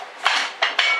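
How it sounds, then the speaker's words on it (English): Ceramic plates clink and clatter as three are grabbed in a kitchen while cooking chicken chow mein, with three sharp bright clacks over a steady rattling background, close and fairly loud. "so I'm going to grab 3 plates"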